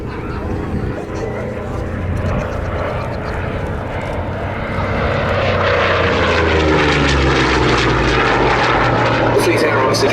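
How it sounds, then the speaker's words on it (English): A Vought Corsair warbird in Fleet Air Arm colours flies a solo air display, its piston engine roaring loudly and shifting pitch as it passes, with a commentator talking over it. "the Corsair now giving us a solo, this in the colours of 1850 Squadron of the Fleet Air Arm"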